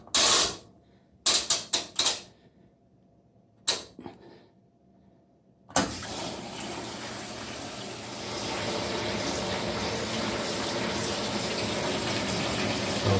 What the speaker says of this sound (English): Now I'm going to do a short wash, just with no soap and stuff, and just a couple towels and things in there.